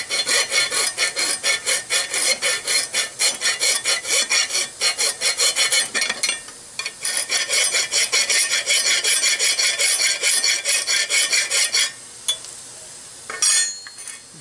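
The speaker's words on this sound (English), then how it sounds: "I'm going to go ahead and finish this up with just a regular file." A hand file rasps across a steel axle nut lock washer in quick, regular back-and-forth strokes, close and loud, with a short pause near the end before a final burst of filing.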